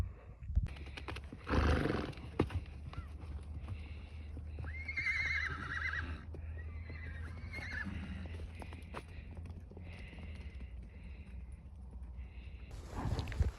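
Horses neigh in a rural Kazakh village, with one clear whinny standing out over steady outdoor background noise, plus a few thuds and sharper bursts nearby.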